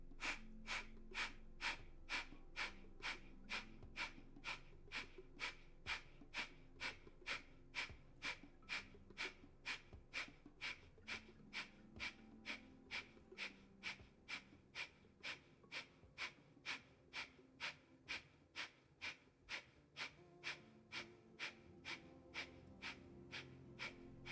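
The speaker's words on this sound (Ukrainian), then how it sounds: "І з видихом капелапхаті без рахунку в комфортному для вас ритмі." Kapalabhati yoga breathing during a vinyasa flow session: a long, even series of sharp, forceful nasal exhalations, close and regular at roughly two per second, with quieter passive inhales between them.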